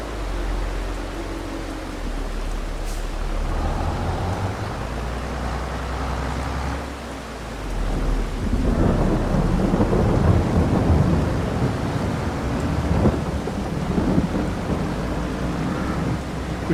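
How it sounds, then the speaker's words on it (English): Rain and thunder from the Farming Simulator 22 game make a steady wash of rainfall, with deep thunder rumbling and swelling over it, loud and continuous with no voices. "Is the rain starting? Yep. There we go. We're getting the rain now."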